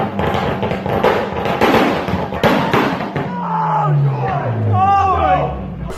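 A drift-built Nissan 240SX with a BR flame system fires off a rapid string of loud exhaust pops and bangs. A crowd roars and chatters over the blasts, and cheering swells toward the end.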